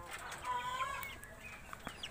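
Krenos breed chickens cluck softly from a farm yard, a few short calls rising over steady low background noise, with no voices.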